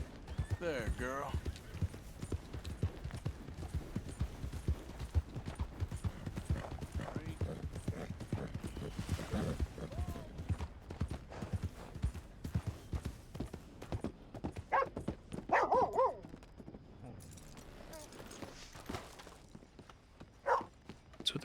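Horse hooves clip-clop steadily beneath nearly constant talking, the mount a skittish mare ridden in the video game Red Dead Redemption 2.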